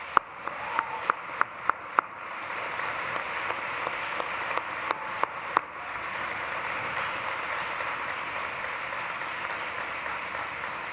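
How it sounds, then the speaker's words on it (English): A medical school commencement audience applauds the faculty, a broad, even wash of distant clapping. A few louder individual claps stand out near the start, and the sound stays steady and fairly faint throughout. "acknowledge them with a grateful round of applause"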